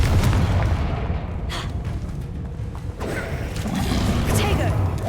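A Confringo blasting spell going off in the Hogwarts Legacy video game, a dense rumbling boom with crackling debris and a whooshing burst, loud and continuous throughout.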